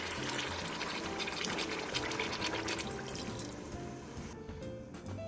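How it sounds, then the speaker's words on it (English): Half a cup of water poured into a pan of frying black pepper beef, setting off a loud, sustained sizzle and bubbling hiss that eases slightly toward the end. "We'll also put in half a cup of water."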